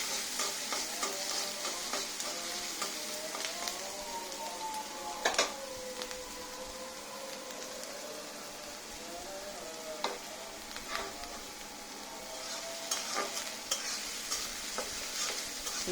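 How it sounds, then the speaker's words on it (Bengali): Onions fry in a pan with a steady close sizzle, stirred now and then with scattered sharp scrapes across sixteen seconds, with no talking. "আমি পেঁয়াজটা একদম ব্রাউন কালার করে ভাজবো।"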